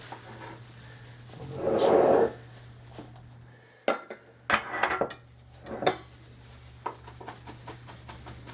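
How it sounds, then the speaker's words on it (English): A knife working through garlic on a cutting board, heard as a cluster of sharp, close taps and scrapes in an uneven rhythm, followed by a few lighter knocks and a softer rustle. "so there's my basic dicing of the garlic"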